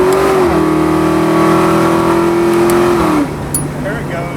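A 1973 Plymouth Road Runner GTX muscle car engine revs hard with a steady rising drone, then drops off as the car pulls away, loud and close, with people talking over it.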